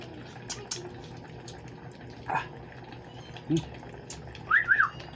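Short rising-and-falling whistled notes near the end, over a steady low background hum, with a faint earlier chirp.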